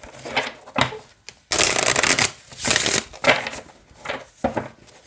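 Cards are riffled and shuffled close up, with bursts of rapid fluttering and crisp snapping taps between them.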